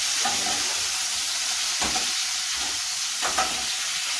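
Food sautéing in a hot pan sizzles and hisses steadily, with a couple of brief stirring scrapes rising out of the constant frying noise.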